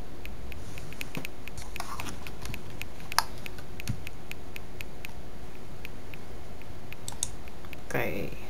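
Fast typing on a computer keyboard patters steadily with sharp individual key clicks and a few louder taps, close up and continuous, with soft speech mixed faintly underneath.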